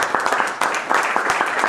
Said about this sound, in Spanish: para quien pido un aplauso grande